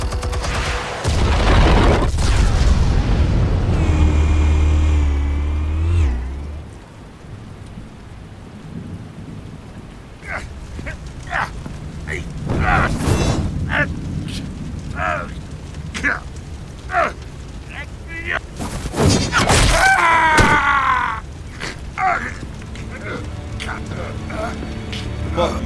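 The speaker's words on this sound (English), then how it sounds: "Explosives armed. Fire when ready." Explosives detonate in Telltale's Batman video game with a loud, deep rumbling blast that rolls for several seconds and then fades, followed by scattered impacts and a second burst under talking voices.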